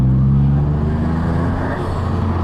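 A Toyota GR Yaris rally car engine runs loud and steady with a low, throbbing hum, close by and continuous throughout, with no one talking.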